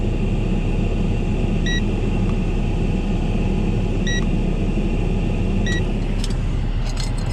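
Steady whooshing blower fans of a BMW E60/E61 car ventilation system run loudly and continuously, with a few short electronic beeps and faint clicks near the end.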